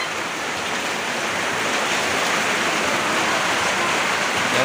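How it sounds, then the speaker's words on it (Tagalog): Heavy rain pours down during a flood at a house, a dense, unbroken roar of falling water that stays loud and steady throughout, with no clear talking over it. "Yung baha pumasok po dito sa bahay, sobrang lakas ng ulan."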